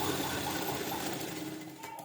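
A sewing machine runs steadily while stitching the lining of a round-neck blouse, a continuous close whirring hum with no talk over it.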